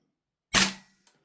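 A DE Noveske Ghetto Blaster airsoft rifle fed from a standard Marui STANAG magazine fires a single sharp, close shot that decays quickly, followed by faint mechanical clicks.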